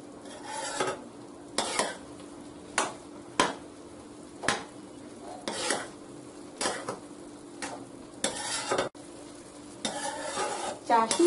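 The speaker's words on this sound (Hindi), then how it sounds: "गैस को तेज ही रखेंगे और चाशनी में बूंदी को अच्छे से मिलाएंगे" Boondi stirred into sugar syrup over a high flame with cardamom powder, a ladle scraping and knocking against the pot in repeated sharp strokes over a low background bubbling sizzle.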